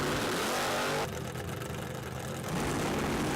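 Chevy Corvette drag racing car engine revving loudly, a dense roar that dips briefly in the middle then surges back.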